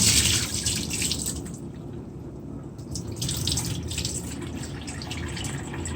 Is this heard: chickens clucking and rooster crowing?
no